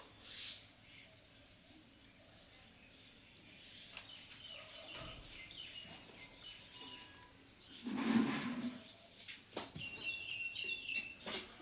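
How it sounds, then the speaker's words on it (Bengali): A potato rubs against a hand grater in a home kitchen, making soft, faint rasping strokes that come in short repeated bursts. "এখানে কিন্তু সম্পূর্ণ আলুটা আমি গ্রেড করে নিয়েছি"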